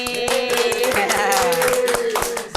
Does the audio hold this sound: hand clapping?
yes